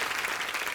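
Short burst of dense audience applause on a TV show stage as a singer is welcomed, many hands clapping together in a continuous, even wash at moderate volume.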